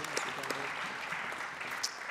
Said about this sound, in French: je vous demande de l'applaudir également pour le travail qu'il a réalisé